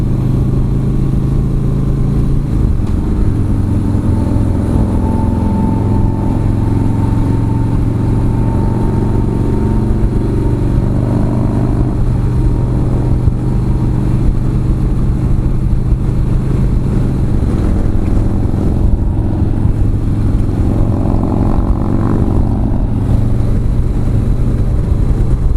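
A Harley-Davidson motorcycle engine revving as the throttle twists, a loud, close, continuous low rumble with rising and falling pitch, mixed with road and wind noise while riding.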